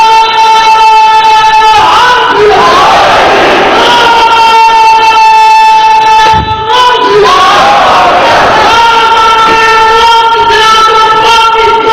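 A large crowd chants a religious slogan in unison during a religious gathering, voices rising in loud, sustained waves over steady tonal sound, with brief dips between phrases.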